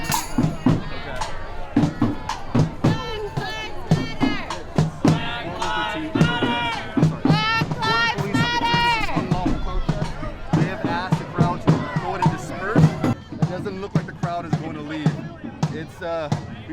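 A crowd of protesters on a Portland street at night after recent tear gas use: loud shouting and chanting voices with sharp bangs and thumps scattered throughout, close by and continuous.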